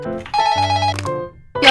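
A telephone rings once in a short electronic bell-like burst, clear and close, followed by a brief pause and the start of another ring.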